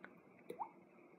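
A single mouth-made water-drop imitation: a tiny click followed by one quick, rising plop, very quiet and close, with no talking.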